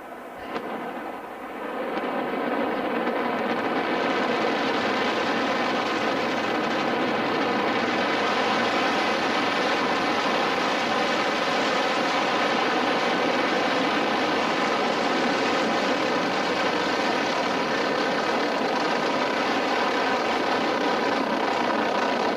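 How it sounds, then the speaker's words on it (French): An Ariane 5 rocket lifts off with a Vulcain main engine, building within two seconds into a loud, sustained, rumbling roar that holds steady and unbroken. "Décollage."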